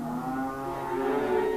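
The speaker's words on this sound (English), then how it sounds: "Moving around the way, we've got some butcher cattle." Beef cattle in livestock pens low with a drawn-out, steady moo that holds for over a second and a half, close and fairly loud, with no talk over it.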